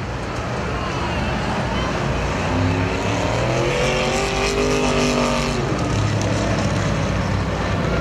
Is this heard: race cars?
yes